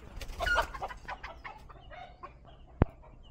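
Chickens clucking close by, a short burst of busy clucks early on, then quieter scattered clucks and a sharp knock near the end.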